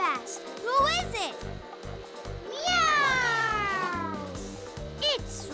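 A cartoon character voices an imitation of a cat, giving several drawn-out, pitch-sliding meows and a caterwaul-like cry over a bouncy, rhythmic music backing.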